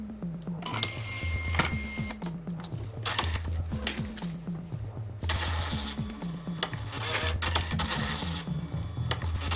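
A cashier receipt printer runs after a reset, giving a busy mechanical whir and clatter of feed motors and gears in repeated bursts, with sharp clicks throughout, loud and close with no talk.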